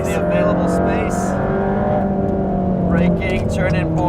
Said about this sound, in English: bring the car over to the apex, and accelerating back out